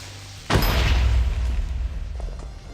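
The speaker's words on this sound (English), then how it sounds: "the sound mods I had made explosions echo if they're in caves" A Minecraft explosion goes off in a cave with a sudden loud boom, and a long rumbling echo follows that slowly fades over about two seconds.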